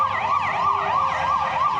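Police car sirens wail in a steady rising-and-falling cycle, loud and close, as the cars pull into a street shooting scene in Brussels.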